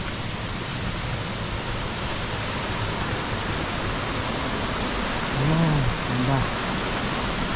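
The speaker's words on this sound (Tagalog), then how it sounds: "Dito na kami sa falls." A waterfall at the end of a hike roars as steady, broad rushing noise that fills the whole clip, with voices briefly exclaiming over it near the end.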